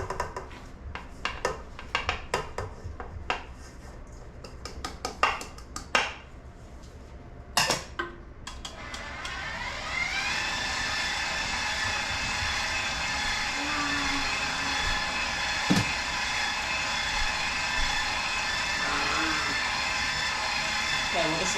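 An electric mixer blends cookie dough with brown sugar for chocolate chip cookies. Scattered clinks and knocks come first, then the mixer starts a steady, fairly quiet whir that runs to the end.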